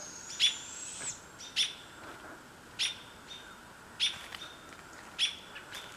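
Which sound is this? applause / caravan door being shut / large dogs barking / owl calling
owl calling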